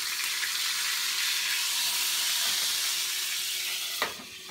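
Manini fish sizzling loudly in a pan right after being flipped, a steady bright steam-like hiss close up throughout, with a brief clatter near the end as the sizzle eases.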